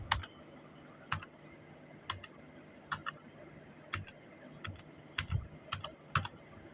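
Sparse, deliberate keystrokes on a computer keyboard while a name is entered, each click distinct and separated by pauses, some double taps near the end, over faint room hiss.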